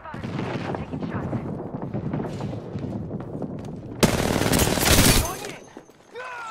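Gunfire in the video game Apex Legends, with rapid bursts of automatic shots that grow into a loud, dense volley near the end, alongside other game sounds.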